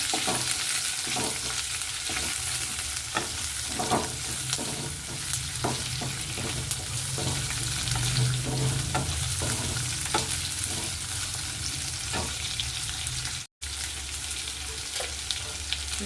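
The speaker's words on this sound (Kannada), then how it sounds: "ಈಗ ಅದಕ್ಕೆ ಕಟ್ ಮಾಡಿ ಇಟ್ಕೊಂಡಿರೋಂಥ ಈರುಳ್ಳಿ ಹಾಕ್ಕೊತೀನಿ. ಇದನ್ನ ಮಿಕ್ಸ್ ಮಾಡ್ತೀನಿ." Chopped onions frying in a pan for capsicum rice bath, a steady continuous sizzle with repeated scraping stirs of a spoon against the pan, close and loud throughout, no voices.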